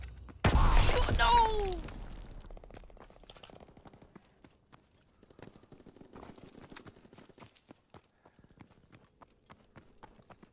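A submachine gun fires a loud, short burst in a World War II shooter video game, followed by sparse, faint distant shots and clicks over several seconds.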